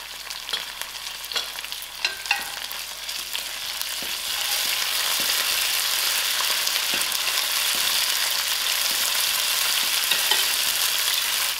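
Half a teaspoon of mustard seed with ginger and garlic sizzles in a hot pan, with crackling pops and a few stirring clatters early on, then a steady loud frying hiss.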